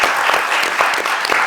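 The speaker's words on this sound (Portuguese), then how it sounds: "uma salva de palmas" Loud, close applause from a business talk audience, dense continuous clapping throughout the short stretch.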